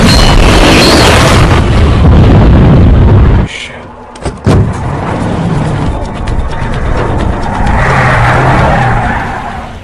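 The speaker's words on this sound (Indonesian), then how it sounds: "CJ menembakkan sebuah tabung gas ke arah zombie itu." A gas canister explodes and a car crashes in a zombie film, a loud roaring blast and rumble that cuts off abruptly, followed by sharp impacts and renewed engine and crash noise.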